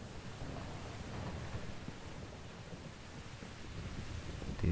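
Storm rain and rumbling thunder in the video game Minecraft with a localized weather mod, a faint, continuous wash of hiss and low rumble with no talk.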